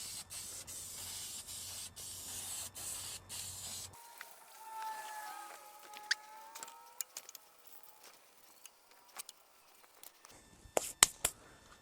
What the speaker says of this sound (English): Just spray this all over there. Get a good strong coat on.